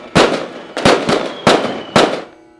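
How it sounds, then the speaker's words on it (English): Diwali firecrackers go off in four sharp, loud blasts at irregular intervals, each a sudden crack followed by a short crackling tail, and the last fades into quiet. "and starts firing the crackers."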